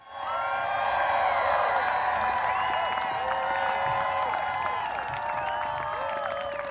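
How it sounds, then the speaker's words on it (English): A rally crowd at a Transgender Day of Visibility event in Washington, DC cheers, whoops and applauds steadily and loudly throughout, a dense wash of many voices and hands at close range. "Give yourself a round of applause for being here."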